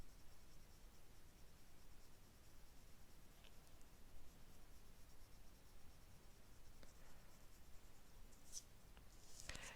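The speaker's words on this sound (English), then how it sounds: "Little circles with the pencil." A pencil scratches little circles on paper in a Zentangle-style drawing, producing a faint, continuous soft rasping close up with a few brief louder scrapes near the end.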